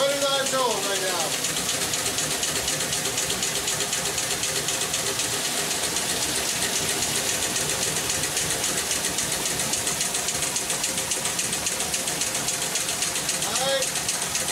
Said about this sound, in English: This machine is running on its own right now.